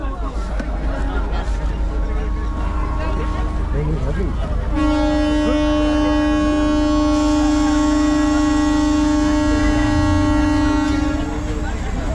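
DEMU special train running from Haldibari to Siliguri Junction, with a loud constant rumble and clatter from on board. A long sustained horn blares midway, and people talk in the background throughout.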